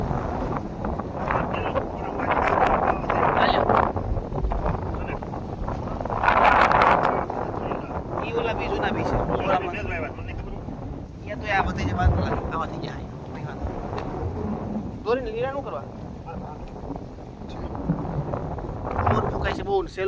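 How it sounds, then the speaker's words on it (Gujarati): Strong wind roars and buffets the microphone in steady gusts, with voices talking underneath throughout. "પવન ફૂંકાઈશ બહુ ઉડાડી નાખ્યો"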